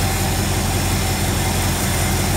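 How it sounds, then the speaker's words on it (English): Big Ford engine fitted in a 1936 Mercedes 500K replica convertible runs at a steady idle, a loud, even, close-up rumble with a rough low throb and no talking over it. "That's the engine it's running."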